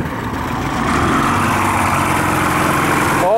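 Two-stroke outboard engine on a 2000 Grady White 248 Voyager idling steadily and close, a continuous low rumbling drone with no talk over it.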